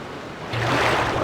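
A steady broadband rush of falling water in Resident Evil 2, rising in loudness partway through and continuing as a dense, continuous wash.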